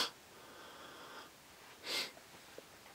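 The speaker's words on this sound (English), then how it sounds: "Give them the sniff test." A person sniffs a cup of oat milk coffee up close. A longer nasal inhale comes first, then a sharp, louder sniff, in a quiet room.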